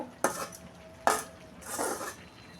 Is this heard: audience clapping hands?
no